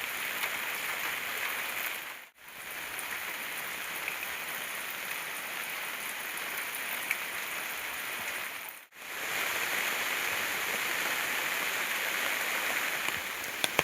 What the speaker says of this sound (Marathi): आता संध्याकाळी पाऊस चालू झाला आहे